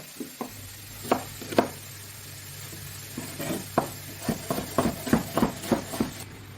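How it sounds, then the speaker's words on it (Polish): An onion being finely diced with a knife on a cutting board in a home kitchen while bacon fries nearby, a series of close, sharp chopping taps that speed into a quick rhythm over a low steady hum. "Cebulkę pokroimy drobno w kosteczkę."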